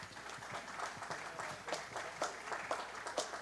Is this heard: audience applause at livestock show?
yes